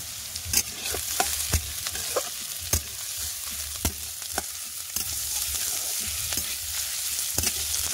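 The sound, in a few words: frying onion, garlic, ginger and green chili in pan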